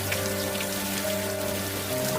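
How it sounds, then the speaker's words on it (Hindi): Heavy rain pours down outside in a cartoon scene, a dense, steady wash of hiss and patter that stays constant throughout, with a low sustained hum beneath it. "बाहर तो बहुत तेज बारिश हो रही है"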